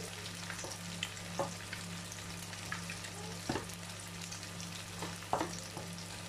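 Potato galette mixture sizzling steadily in a frying pan while being stirred, a continuous faint crackle with soft scraping clicks from the utensil, no voices.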